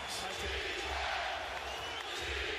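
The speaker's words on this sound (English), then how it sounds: "Crowd on its feet, chanting defense." A basketball arena crowd stands roaring, a dense, loud, continuous wash of voices with rhythmic chanting pulses underneath, close and enveloping throughout.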